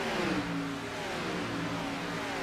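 A simulated race car engine in a sim racing game at Nashville drones steadily with a gentle rise and fall in pitch, moderately loud and without talk.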